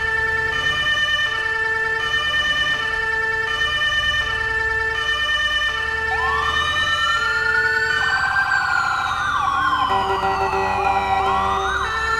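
An ambulance siren in GTA V wails, sweeping up and down continuously, loud and close, over a steady electronic tone pattern with no talking.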